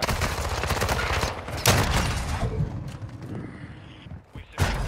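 Shotgun blasts in a first-person shooter video game, a few loud booming shots cutting through dense in-game noise, with the racket fading near the end before a last sharp burst.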